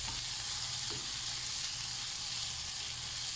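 Shrimp sizzle and fry in a pan with a constant bright hiss, close and steady, with a brief stir or clatter near the start.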